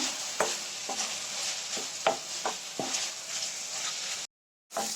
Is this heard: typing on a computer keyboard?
no